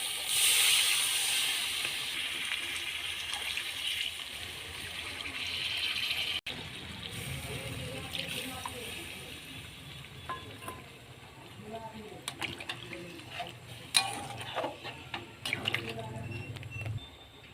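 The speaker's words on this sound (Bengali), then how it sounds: "এই যে কষা হয়ে গেছে এবার জল দিয়ে দেবো" Water is poured into a pot of fried, spiced goat meat being cooked into a light red curry, giving a steady hissing splash and sizzle that fades into quieter bubbling and scattered clinks.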